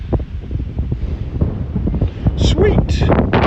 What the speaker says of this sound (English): A bit windy today, you know.